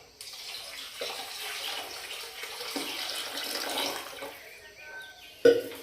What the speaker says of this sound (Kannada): ಈಗ ನೀರು ಸೇರಿಸ್ಕೊತೀನಿ.